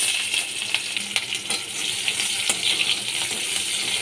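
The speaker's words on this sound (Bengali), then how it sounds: "পেঁয়াজটাকে ভালো করে ভেজে নিচ্ছি" Chopped onion frying in oil with cardamom, a dried red chilli and five-spice seeds, a steady close sizzle with small clinks and spatter pops throughout, no talking.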